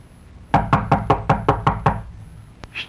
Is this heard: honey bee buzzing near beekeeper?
no